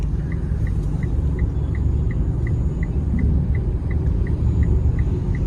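Mitsubishi car idling and creeping forward on a rough road after the brake is released, a steady low engine rumble with a faint regular ticking, like an indicator, running throughout.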